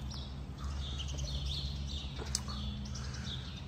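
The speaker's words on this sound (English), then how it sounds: "If you can hear all the birds, they're singing to us this morning." Birds chirping and singing in the morning around a farm shed, faint high twittering calls scattered throughout over a low machinery hum.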